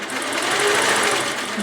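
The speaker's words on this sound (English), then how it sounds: "And that's going to stitch the tab down." An in-the-hoop embroidery machine stitches a tab down onto a boxed bag, a steady, close, continuous mechanical whirring hum with a rapid needle rhythm, heard alone for under two seconds.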